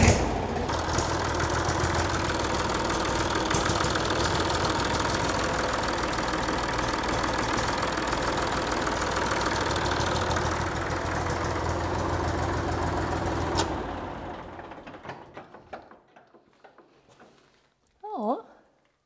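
A Volvo BM 320 Buster tractor engine idles steadily, a loud, close diesel rumble with a knocking edge, during a start test after radiator hose and feed pump replacement; it cuts off abruptly, a few clicks follow, and a brief voice is heard at the end.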